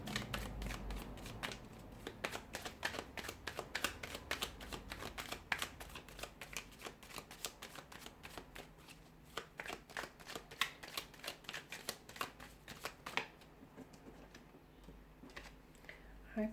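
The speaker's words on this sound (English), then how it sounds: "we'll give the cards a shuffle" Tarot cards being shuffled by hand: a long run of rapid crisp riffles and slaps in quick rhythmic bursts, close and fairly quiet, with no talk.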